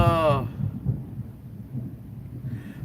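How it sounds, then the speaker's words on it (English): Loud thunder clap during a storm, a deep rolling rumble that carries on for nearly three seconds. A voice speaks briefly at the start, and light rain or storm noise sits underneath. "That was thunder."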